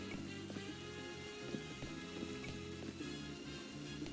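Steady rain in the video game Pokemon Legends ZA, a continuous patter with scattered drops, heard alone.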